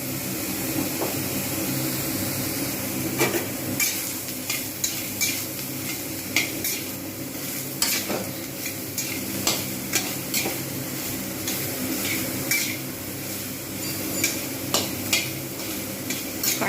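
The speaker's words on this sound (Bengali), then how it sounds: "এপিট ওপিট করে ভালোভাবে ভেজে নেব" Soybean chunks fry in a pan while a spatula stirs and flips them, giving a steady sizzle broken by regular scraping clacks against the metal, close and fairly loud.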